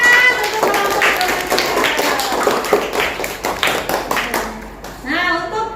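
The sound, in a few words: audience clapping for youth group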